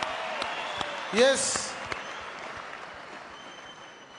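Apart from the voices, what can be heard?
congregation clapping hands for Brethren Makarurama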